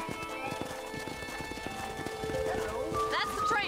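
Horse hooves clip-clop at a steady walking pace while riding in the video game Red Dead Redemption, with a horse whinnying toward the end; someone speaks over the hoofbeats.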